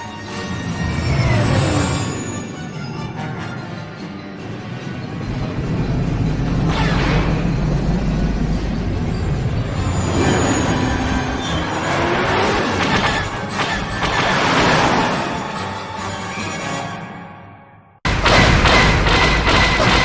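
Space combat in the gun turret minigame of Star Wars: Knights of the Old Republic, with Sith fighters attacking: a dense, loud wash of laser blasts, whooshing fly-bys and heavy thumping explosions runs for the whole stretch, then cuts abruptly into another burst of noise.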